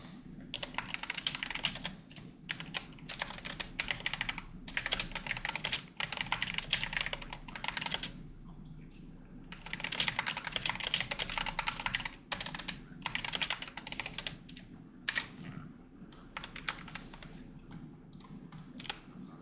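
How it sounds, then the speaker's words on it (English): Fast typing clatters on a computer keyboard nearby, coming in dense flurries of keystrokes separated by short quiet gaps. "hopefully the keyboard ain't that loud today"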